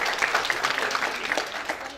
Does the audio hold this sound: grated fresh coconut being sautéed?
no